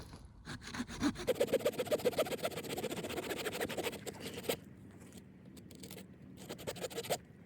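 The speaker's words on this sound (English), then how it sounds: "I've had better saws, but for a bush saw, it's not bad." A Silky folding saw cuts through a broken dead tree branch outdoors, making rapid rasping back-and-forth strokes, loud and steady, then slower bursts after a brief pause.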